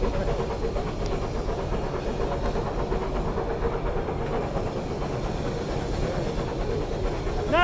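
A Southern Railway West Country class steam locomotive working hard, a steady loud rhythmic chuffing and hiss of steam running continuously without a break.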